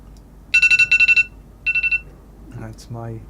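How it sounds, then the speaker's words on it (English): A phone alarm goes off as a reminder during a Diablo IV play session, sounding as two quick bursts of bright repeated beeps, then a shorter third burst, loud and close, followed by game sounds. "That's my alarm reminding me."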